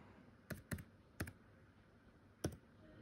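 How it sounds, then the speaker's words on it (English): A few separate keystrokes on a laptop keyboard: quiet, close clicks arriving in small clusters with gaps between them, over near-silence. "to type what I want to type on this laptop"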